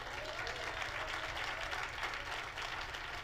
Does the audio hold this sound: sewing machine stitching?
no